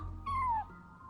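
A cat named Charcoal in Genshin Impact's Mondstadt gives one clear, close meow with a falling pitch, heard alone over a faint low background hum.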